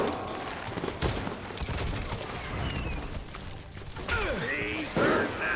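Gunfire in the Western shooter game Call of Juarez Gunslinger: rapid bursts of shots and mechanical clatter, loud and close, with a voice talking over the action.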